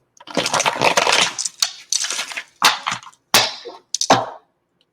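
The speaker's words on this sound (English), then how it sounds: "I'm dropping cards here" Tarot cards are riffled and shuffled by hand in close, crackly bursts, with a few sharp slaps as loose cards drop, each flurry separated by short gaps.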